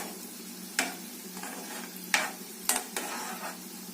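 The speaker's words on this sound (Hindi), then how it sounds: "तो ये मिनी गुलाब जामुन है, तो इसे फ्राई करने में हमें 8 से 10 मिनट लगेगा।" Mini gulab jamun frying in oil, a soft steady sizzle with a few light stirring scrapes at intervals.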